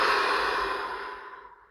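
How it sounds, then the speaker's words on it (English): One long, audible exhale of a deep breath, a breathy sigh that fades away over under two seconds, close and alone. "take a deep breath"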